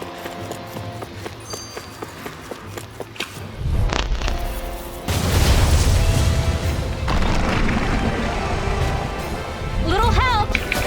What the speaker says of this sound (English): Are those rockets?